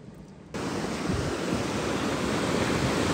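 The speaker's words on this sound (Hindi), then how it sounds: "भाई, कुछ काला पानी आ रहा है भाई," Water rushes steadily across a mountain road in Ladakh, a loud, constant broadband roar that surges in after a half-second of quieter wind and continues unbroken, with no voices.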